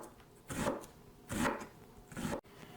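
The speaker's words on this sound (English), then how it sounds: "we're going to cut up a half an onion here" Knife cutting through half an onion, first slicing in thin strips and then cross-cutting, giving three separate bursts of rasping, chopping strokes on a board, fairly close and quiet with no talking.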